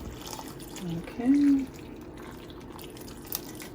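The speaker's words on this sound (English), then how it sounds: "2 cups of vegetable stock, and we're going to pour it right in here." Two cups of vegetable stock pour into a bowl of stuffing mix in a short, close liquid splash, with a person briefly speaking.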